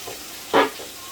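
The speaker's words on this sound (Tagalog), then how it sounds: "Igisa muna ng kaunti." Santol being sautéed in a pan for a coconut-milk vegetable dish: a single brief burst of sizzling and stirring rises against a quiet background, then fades back down.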